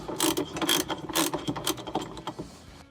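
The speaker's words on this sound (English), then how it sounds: "there's a 17 millimeter socket that's on here. You have to hold on to the rotor and loosen it" Ratchet wrench with a 17 mm socket loosening the rotor nut on a Samsung washing machine motor, a quick series of sharp, close clicking ratchet strokes in bursts, loud and alone.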